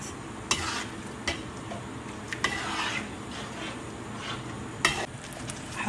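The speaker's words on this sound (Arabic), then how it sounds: "نقلب المزيج كذا" A cornstarch slurry is stirred into chicken cooking in a pan, giving soft scraping and a few sharp utensil taps over a quiet background sizzle, close but faint.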